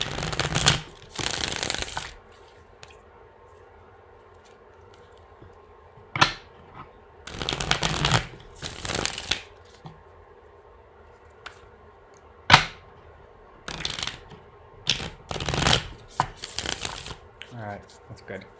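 Tarot cards are shuffled in repeated short riffling bursts with quiet gaps and sharp taps between them, close and crisp, over a faint background hum.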